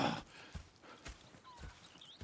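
Horse hooves clip-clop at an even walking pace in Red Dead Redemption 2, soft and somewhat distant, with a few faint background game sounds.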